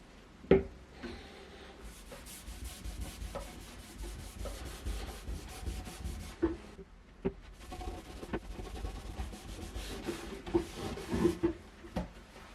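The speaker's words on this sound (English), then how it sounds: "we rub some stain or wood oil on the staff with a cloth" A cloth rubs stain or wood oil onto a wooden polearm training staff, giving soft, steady scuffing strokes with a few sharper knocks. The sound is close and quiet, with no voices.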